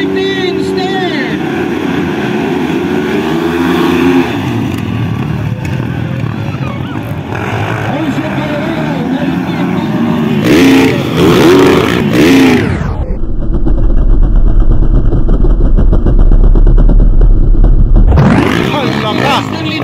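Motocross motorcycles at the start of a Pro Open race in Manolo Fortich roar together loudly, engines revving hard and then surging into a sustained close, dense drone as the pack launches, with a crowd and announcer's voice mixed in.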